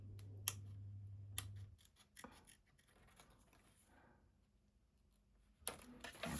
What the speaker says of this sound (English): So I'm going to cut out the little tag like so.